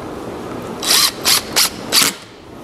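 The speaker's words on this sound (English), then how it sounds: "countersinking these holes and then putting these torque screws in" A power drill drives torque screws into countersunk holes in cedar blocks for a folding grilling table, with four short loud whirring bursts in quick succession, close up.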